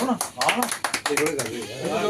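Scattered clapping from a crowd welcoming a speaker at a political gathering in Jammu and Kashmir, a few brief bursts heard under ongoing talk and chanting voices.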